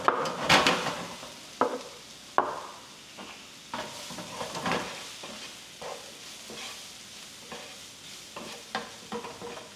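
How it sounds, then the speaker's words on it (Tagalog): Mushrooms sautéing in a pan with salt and pepper: steady close sizzling under repeated scraping stirs and light utensil clacks against the pan, with a sharp knock near the start. "igisa lang natin siya hanggang tuluyang mag-sweat yung mga mushroom"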